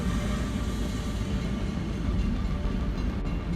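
A train rumbles past, steady, loud and close, with continuous heavy rolling noise and no break or distinct impact, in a crash where a train split a truck carrying luxury cars.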